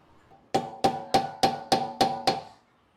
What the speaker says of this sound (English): get in there with a screwdriver or something and hammer it in there